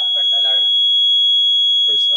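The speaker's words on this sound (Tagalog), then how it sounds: "Sumutingog ang bell." A loud, steady first-stage fire alarm bell rings continuously, with people talking over it at the start and end.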